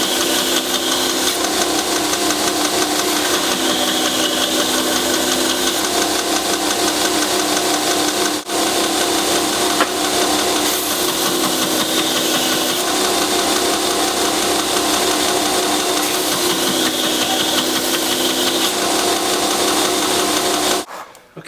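Belt grinder running a worn 120 grit belt against a hand-forged coil spring steel knife blade, a steady loud broadband grinding roar held for about twenty seconds with one brief dip, then cutting off at the end; no talking.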